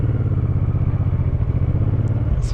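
A motorcycle engine runs steadily and loud throughout while being ridden, a continuous low rumbling drone with no talk over it.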